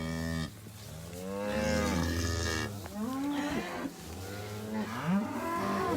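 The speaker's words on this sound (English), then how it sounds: "So it is very loud. All the cows are trying to find their calves" Cows on a farm moo loudly while calling for their calves, with several long overlapping lowing calls, some near and some further off, repeated throughout with no talking.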